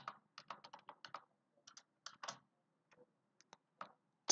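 Typing on a Turkish computer keyboard, quick bursts of crisp close key clicks with short pauses between them.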